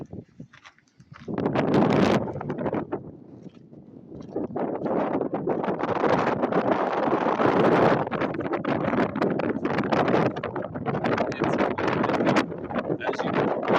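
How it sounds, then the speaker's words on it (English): Strong, gusting wind buffeting the microphone outdoors at the Santo Nino De Atocha Shrine near Truth or Consequences, a loud continuous roar rising after a quiet start and surging in waves with no talking. "the wind that you're hearing has already been reduced from reality"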